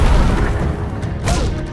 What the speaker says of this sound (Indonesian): Pesawat itu pun meledak sebelum mencapai gurun.